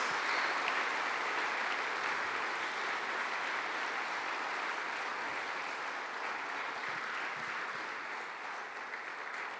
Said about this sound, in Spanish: ¿Le podrías dar un aplauso bien fuerte a Dios?